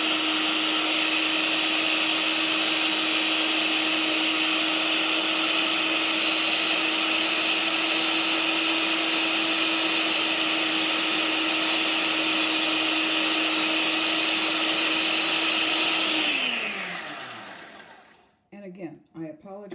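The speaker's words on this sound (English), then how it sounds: "Again, I apologize for the blender noise." A blender powders dehydrated cranberries from two dehydrator trays, its motor whining at a steady high pitch for a long stretch before spinning down and stopping, loud and close.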